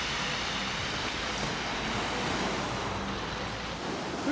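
Waves wash on a small beach at a fishing village on the North Norfolk coast, a steady, dense roar of surf mixed with wind noise across the microphone, with no voices.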